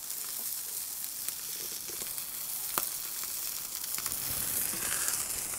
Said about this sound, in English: I was just hoping for a little bit more sizzle, but these are gonna be perfect.